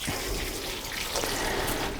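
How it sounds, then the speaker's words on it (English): Water poured onto a hanging basket of trailing fuchsias, a close, steady splashing trickle through the soil and leaves, heard alone. "Give it a nice good water."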